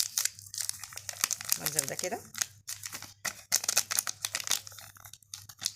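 A plastic bag of powdered milk is crinkled and torn open in a home kitchen while baking soft Egyptian kahk cookies, the rustling and crackling loud and close, running beneath someone speaking.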